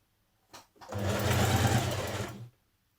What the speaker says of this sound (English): Now I'm doing the same on the bottom of the dress, just a double fold hem